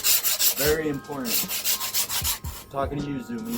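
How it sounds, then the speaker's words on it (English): Sandpaper rubs along the edges of shop deck pieces in quick repeated strokes, close and fairly loud, with a voice briefly speaking. "You're gonna wanna sand the edges."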